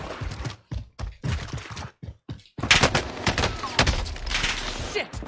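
Warzone video game gunfire: dense, close bursts of rapid shots in clustered volleys with brief gaps, then a louder stretch of sustained firing and impacts.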